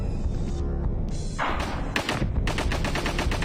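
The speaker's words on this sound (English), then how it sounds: "Just gonna try to shoot as much as possible right now" Rapid gunfire in a shooter video game: loud, close bursts of repeated shots and thuds, dense automatic volleys that grow more rhythmic toward the end, with no talk over them.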